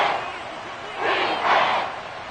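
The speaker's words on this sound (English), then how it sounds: "This crowd turning up the decibel level." Stadium crowd in an American football video game roaring and swelling in two surges during a tense late-game moment, a broad wash of cheering noise with no voices speaking.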